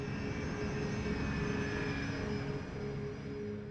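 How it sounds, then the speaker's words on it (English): Jet aircraft engine in flight, a steady droning roar with faint tonal whine on top, constant and moderately loud with no voices. "The force of this reaction propels the jet through the sky."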